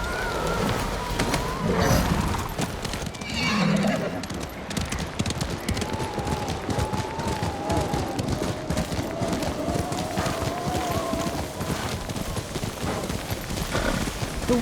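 Horse hooves clip-clopping at a steady gallop in Ghost of Tsushima during worsening snowy weather, continuous rhythmic hoofbeats under wind and background music, with a voice speaking briefly early on.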